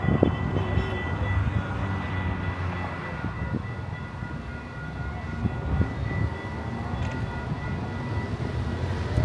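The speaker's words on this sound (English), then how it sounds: "We got another train coming." A train passes nearby with a steady, heavy low rumble and faint rhythmic clatter that holds throughout, and no voices are heard over it.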